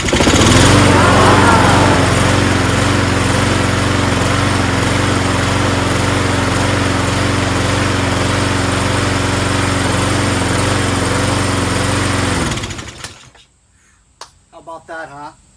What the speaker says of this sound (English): Engine started right up after we primed it.